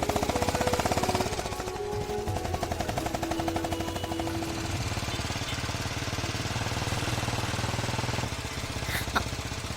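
A two-wheeler's engine runs steadily close by with a buzzing, rattling putter that holds throughout at an even, fairly loud level.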